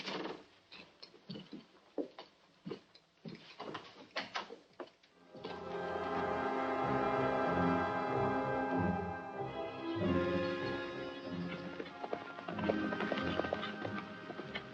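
Horse hooves clip-clop in a rapid, irregular run of sharp knocks in an old western film, then give way to sustained music.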